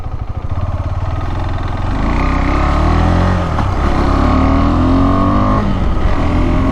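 A KTM 390 Adventure motorcycle ridden on an evening forest road, its single-cylinder engine loud and close, droning steadily and rising in pitch as it accelerates through the gears.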